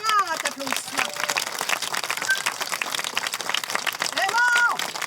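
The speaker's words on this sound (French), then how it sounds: "on y va pour un grand applaudissement" Crowd applause at the closing ceremony of a driftwood festival, a broad continuous patter of clapping with voices and cheers mixed in, moderately loud and sustained.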